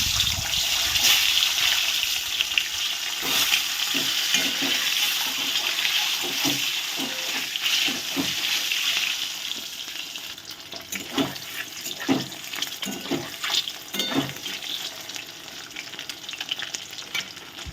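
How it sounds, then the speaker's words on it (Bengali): Eggs dropped one by one into hot mustard oil in a wok, a loud continuous sizzle and crackle that quiets partway, with scattered spatters and utensil clinks close by. "এবার আমি একটা একটা করে ডিমগুলোকে দিয়ে দেবো।"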